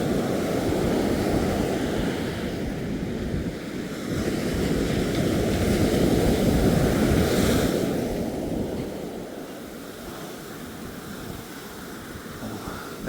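Ocean surf at Ōakura Beach rolls and breaks in broad swelling washes, loud and close with foamy water rushing up the sand, mixed with gusty wind buffeting the microphone.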